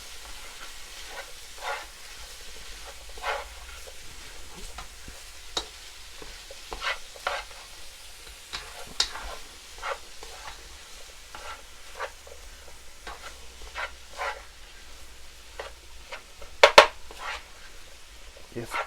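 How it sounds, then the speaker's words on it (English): King prawns being stirred through a sizzling curry in a pan, a constant soft frying hiss broken by repeated spoon scrapes and taps, close and steady throughout. "You got a stir, you want to mix up all of that curry in it."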